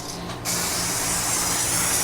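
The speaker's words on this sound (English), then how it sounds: "A little spray to brighten your day." Spray can aimed onto a charcoal grill while burgers cook, a close steady hiss that starts abruptly and holds continuously, loud and alone without voices.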